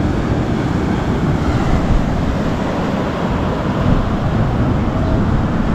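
Ocean waves break on the beach at Baler, Aurora, a loud continuous wash of surf mixed with wind buffeting the microphone, with no voices.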